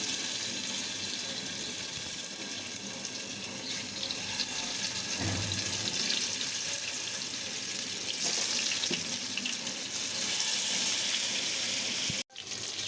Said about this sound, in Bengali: তেলটা ভালো করে গরম হয়ে গিয়েছে এইবার আমি দিয়ে দেব ইলিশ মাছের পিসগুলো